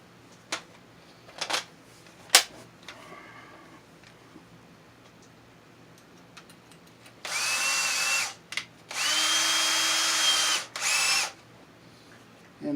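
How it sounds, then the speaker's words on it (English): A few faint clicks and taps, then an electric drill whirs in three close bursts, drilling a hole in a Pioneer CT-F615 cassette deck to mount a fuse block, the motor pitch rising as it bites into material. "So we'll drill a hole here to"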